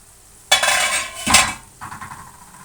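A utensil stirs and scrapes onions in a pan for a minced-meat gözleme filling, giving close clattering metal-on-pan scrapes with faint sizzling underneath and no talk.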